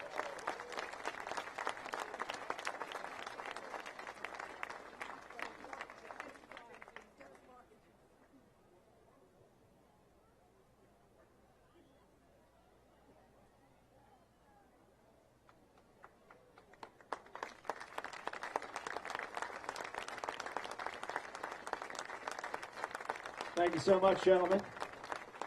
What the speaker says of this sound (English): Gentlemen, thank you so much, and give them a nice round of applause